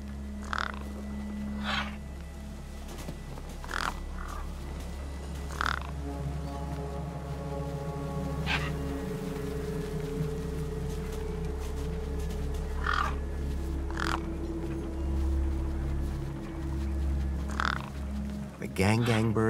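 Gang-gang birds in the video game Beyond a Steel Sky caw over a corpse propped against a rock, giving short harsh calls every couple of seconds over a steady low ambient game drone.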